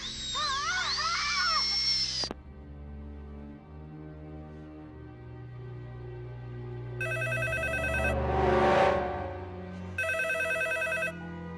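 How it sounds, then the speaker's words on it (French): A telephone rings in a French film, its repeated electronic trill bursts loud and close, separated by a pause and set over low background music with a brief whooshing swell between rings. "Alors pourquoi le téléphone sonne?"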